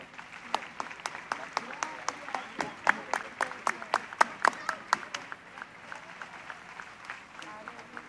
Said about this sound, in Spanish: Acompañemos este momento con un fuerte aplauso.